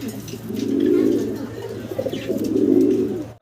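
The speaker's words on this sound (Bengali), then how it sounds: "আমরা মুখী কবুতর দেখতেছি" Two long, low coos from Mukhi pigeons rise and fall one after another, close and fairly loud, with soft background noise between them.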